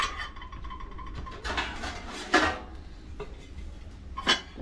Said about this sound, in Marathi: झाकण मारून घेते।